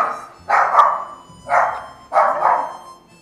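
A dog barks three times in a loud, close, slightly rough series, with short pauses between the barks.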